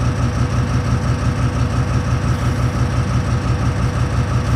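A Class 70 diesel locomotive in Train Simulator 2022 idles with a loud, steady, low rumbling throb that pulses evenly and stays unchanged throughout, with no talking.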